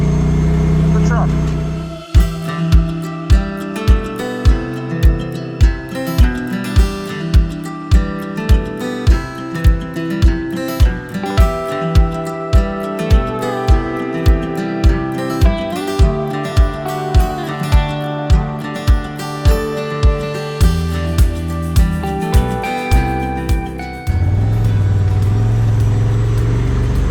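Polaris RZR Turbo off-road vehicle descending a ravine at an off-road park, engine humming under a steady run of rhythmic thuds and clunks as it bounces over rough ground, close and loud throughout.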